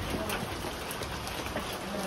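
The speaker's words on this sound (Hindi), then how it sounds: "अभी भी ओले और अभी भी ओले गिर रहे हैं" Steady rain and hail pelt down outdoors on a mountain pilgrimage path at Vaishno Devi, a dense, continuous patter with scattered sharper ticks, and faint voices in the background.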